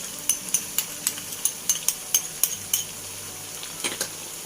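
Flat kway teow noodles are stir-fried in a pan with dark soy, oyster and tomato sauce, a spatula scraping and clanking in a quick regular rhythm over a soft sizzle, close and clear, with no talking.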